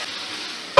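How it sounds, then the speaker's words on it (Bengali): Sweet pumpkin pieces fry in a pan with a soft, even sizzle, ended by a brief louder scrape or stir near the close. "কুমড়োগুলো ভাজা ভাজা হয়ে গেছে।"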